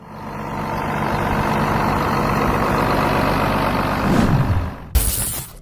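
A Farmall 806 tractor's diesel engine rumbles steadily and loudly, close up, with a descending mechanical whine near the end and a sharp hiss at the close, with no talking.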